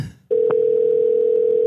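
A phone line tone on an outgoing call from Australia to a US cell phone sounds as a single loud, steady tone that starts abruptly after a brief moment of quiet and holds unbroken to the end.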